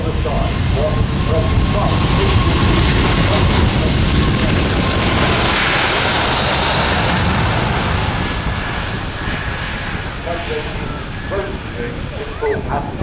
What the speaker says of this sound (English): Airbus A380, just started to take off run hard by Rolls-Royce engines flown by Pete Chandler and Christoph Dale.